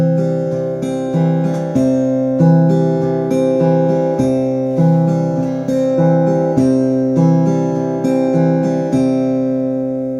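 Fingerpicked guitar plays a steady Travis picking pattern, alternating bass notes under plucked treble notes in an even rolling rhythm, close and clear with no talking.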